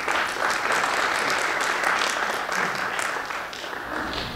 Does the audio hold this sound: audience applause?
yes